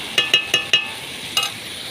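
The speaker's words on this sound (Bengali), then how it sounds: "এই যে আলু ভাজা হয়ে গেছে" Potatoes for a curry are fried in a pan: four quick stirring scrapes in a row, a pause, then one more, over a low, even sizzle.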